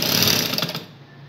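A sewing machine stitching a churidar pajama whirs in a fast, close, rattling run that slows and fades out within about a second.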